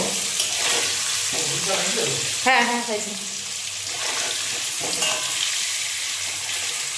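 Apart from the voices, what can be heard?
potatoes frying in a pan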